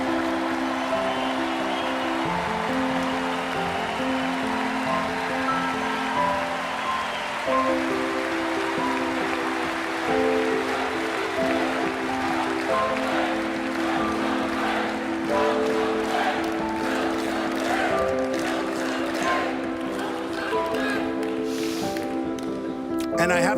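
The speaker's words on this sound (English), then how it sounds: "it is so nice to hear you cheering for what I just said" An audience at a political speech cheers loudly and continuously, with a dense roar of many voices and chanting swells sustained throughout.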